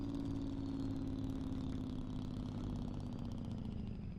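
A restored old semi truck on the road, its Jake brake engaged with a steady, loud, rumbling engine drone that holds evenly throughout without any voices.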